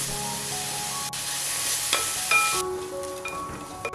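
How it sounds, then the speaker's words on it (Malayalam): Chopped onion sautés with salt in hot coconut oil for a Kerala chicken curry, a loud continuous sizzle with scattered clinks and scrapes of stirring, close up, fading in intensity toward the end. "എണ്ണ ചൂടാക്കുമ്പോൾ സവാള അരിഞ്ഞത് ചേർത്ത് കൊടുക്കാം."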